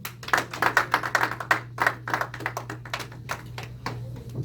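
A church congregation applauds at a Sunday worship service with quick, uneven claps that rise and fall over a low steady hum, close and fairly loud, thinning out toward the end.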